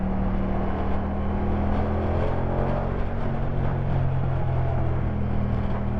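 A Moto Guzzi V100 Mandello motorcycle engine holds a steady 3000 RPM, producing a loud, continuous low hum with constant drone and no pauses or talk.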